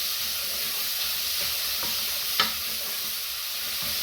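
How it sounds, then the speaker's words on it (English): Onions brown in a pan as a base for dirty mac and cheese, a steady close sizzle and hiss running throughout, with one brief scrape of stirring partway through and no talking. "So I'm going to brown off the onions"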